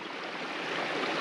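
Water spills from a beaver dam and runs off the sides of a woodland stream bed onto a road, a steady, even rushing flow, close and unbroken.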